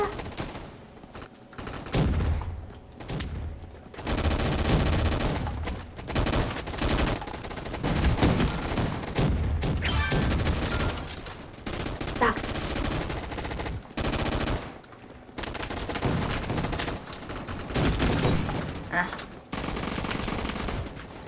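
Bursts of rapid Roblox military game gunfire crackle on and off, loud and close, with brief quiet gaps between volleys.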